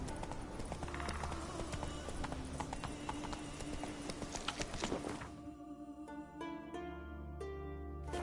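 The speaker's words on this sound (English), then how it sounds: "I think I'm riding a horse like a friggin' drunk." Hooves of the horse Roach clip-clopping at a gallop in Witcher 3, a rapid steady beat over game ambience for about five seconds, then easing off as the riding stops and music continues.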